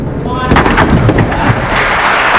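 A 5-pin bowling ball crashes into the pins for a strike during a televised semi-final, a loud sudden clattering impact that rings on with crowd noise and tumbling pins.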